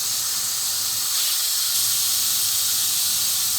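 Steam hisses steadily from the release valve of a Pressure King Pro pressure cooker, a loud continuous broadband rush that swells slightly partway through, with an extractor fan running above.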